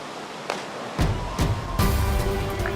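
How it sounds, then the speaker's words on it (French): Rough, choppy sea waves surge and crash in several loud broadband washes about a second apart, close and heavy, with no voices. "Son seul obstacle, la mer agitée."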